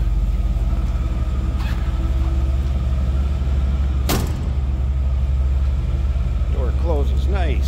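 A 1963 Chevrolet Biscayne two-door post with a mild exhaust idles smoothly with a deep, steady low rumble, while someone speaks over the running engine.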